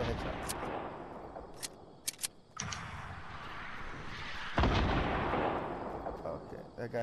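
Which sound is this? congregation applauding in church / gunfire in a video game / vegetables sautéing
gunfire in a video game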